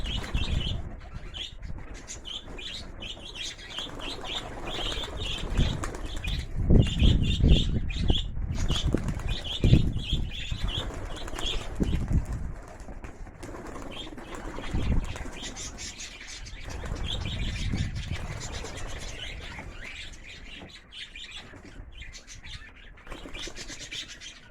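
Loft pigeons, old birds and young, flap their wings in bursts and coo close by, with occasional chirps, in a steady busy flurry with no talk.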